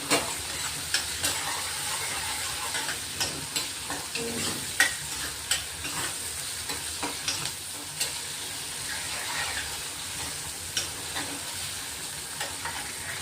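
Tempering of green chillies, tomato and coriander sizzling in a pan for Maharashtrian phodniche varan, a steady close frying hiss broken by repeated clicks and scrapes of a spoon stirring, with no talk.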